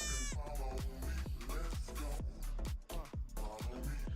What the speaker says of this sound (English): Man, there's your goats, guys.